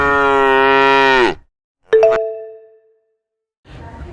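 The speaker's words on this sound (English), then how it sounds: "I am cow." A cow lets out one long, loud, steady moo that tails off, followed after a pause by a single ringing chime that slowly decays.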